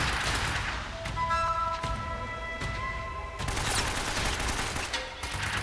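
Gunfire rings out in Uncharted: Drake's Fortune, with sharp repeated shots cracking over a busy game soundscape, bursts clustering early and again toward the end, fairly loud and near.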